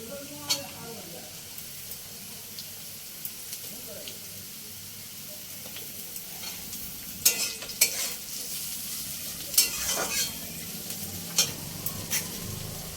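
Thin, long slices of onion fry for jhal suji with a steady sizzle while a spoon scrapes and stirs in irregular clanks that grow busier later on. A voice talks over the cooking at times.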